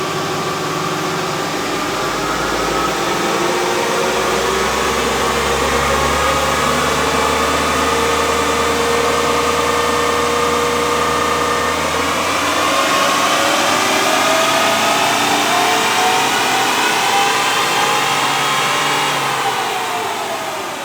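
A 1KD Toyota Prado engine works hard on a dyno, a loud and steady roar that holds for about twelve seconds, then climbs in pitch as the run builds before easing off at the end.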